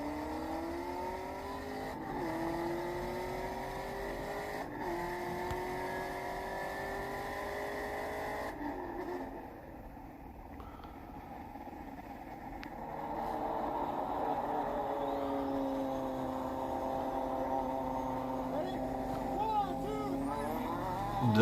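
A Chevrolet Camaro SS engine in a street race, rising through gears with repeated upshifts, a brief lull, then strong revving again, heard steadily at moderate distance with a voice speaking over it.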